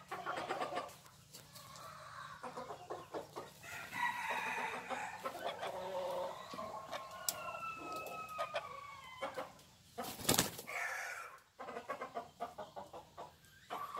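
American bantam rooster from a Vietnamese breeder clucking and calling in a series of bursts, fairly close, alongside other fowl sounds, a brief crow-like cry and a passing vehicle in the background.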